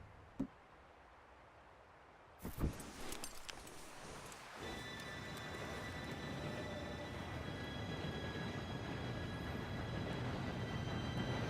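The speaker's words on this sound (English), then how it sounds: "Train should be here any minute now." A train in the video game Red Dead Redemption 2 rumbles in and grows steadily louder, with a sharp clank and metallic screech as it arrives, then a sustained roar with high whining tones.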